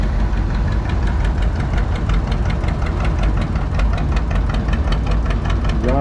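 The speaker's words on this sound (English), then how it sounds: "on that G1000 Vista diesel right there" Diesel G1000 Vista tractor running in a tractor parade, a loud, steady, close engine rumble with a rapid knocking beat that continues throughout, with no voices.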